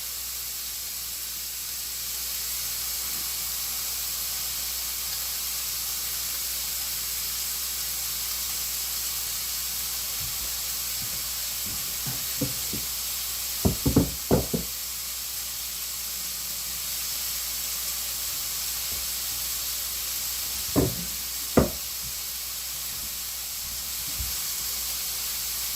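Bacon sizzling in a pan gives a steady, faint broadband hiss throughout, with a few brief louder pops and crackles scattered through the middle and near the end; no one talks.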